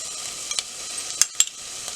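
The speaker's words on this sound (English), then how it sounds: "So now this onion I'm going to fry until it's golden brown." Onion frying with chili, garlic and ginger paste in a pan, a soft steady sizzle with a few sharp clinks of a stirring spoon against the pan.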